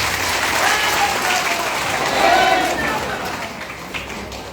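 A crowd claps loudly and densely at a Nishad Party political rally, a continuous wash of applause that swells briefly in the middle before easing slightly.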